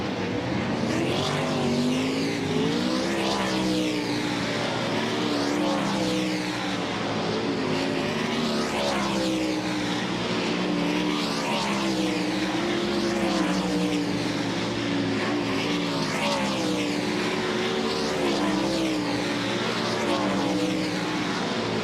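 Dirt track race cars during a practice session at Volusia Speedway Park, engines roaring loudly and continuously in a layered drone as several cars circle the track.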